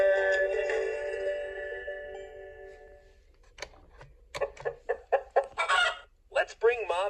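A cartoon hen and her chicks from a Peppa Pig farm episode give a drawn-out crow-like call, then a run of short, bright clucks and cheeps.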